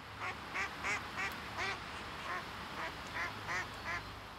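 Ducks and other water birds quack in a steady series of calls on a wetland nature reserve overgrown with seed-rich persicaria, about ten clear quacks at an even pace, moderately close, over a faint outdoor background.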